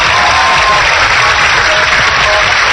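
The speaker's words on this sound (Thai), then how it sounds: "ผมนะอ่ะปรบมือคู่นี้ด้วยนะครับ" Loud, steady audience applause for a couple at a Thai television matchmaking segment, dense clapping sustained throughout with no voices over it.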